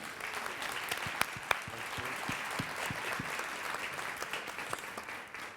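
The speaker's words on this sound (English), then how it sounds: "If we could please give them a round of applause." Audience applause at a business panel event, a steady patter of many hands clapping, moderately loud and sustained for several seconds with a few sharper claps standing out.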